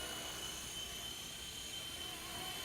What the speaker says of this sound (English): this helicopter should hover, you know, rock stable